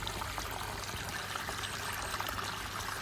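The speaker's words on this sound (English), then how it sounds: "And I hope you can hear that water feature." Garden water feature with a Buddha statue on a sunny terrace of a B&B in Slane, County Meath, trickling and pouring steadily; a close, continuous splashing flow with no speech over it.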